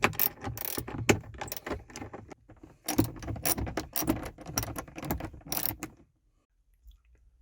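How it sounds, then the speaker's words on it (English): A 1/4-inch ratchet with a long extension and a 5/16-inch socket removes Jeep JK grab bar bolts, clicking in quick close bursts with a few pauses before the sound stops and near silence follows. "to remove those bolts, I used a 1/4-inch ratchet with a long extension and a"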